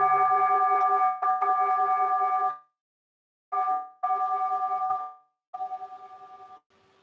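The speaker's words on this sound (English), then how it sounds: "Awareness to follow the bell again." A meditation bell rings clearly and alone, several sustained resonant tones with silent gaps between, the strikes fading out one after another with no speech.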